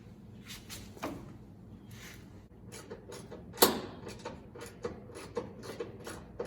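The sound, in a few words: ratchet wrench being turned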